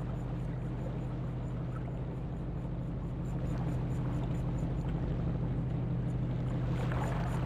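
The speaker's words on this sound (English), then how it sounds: "Make sure your bow is steady into the wind, then stop the boat, but keep the engine running." A sailboat's engine idles steadily while the boat holds stopped with its bow into the wind near a training buoy, a constant low drone with water and wind noise over it, no one talking.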